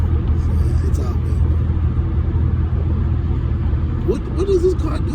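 A car rumbles steadily close by on a road, its low engine drone continuous throughout, with a brief rise near the end as it rolls up; street ambience surrounds it.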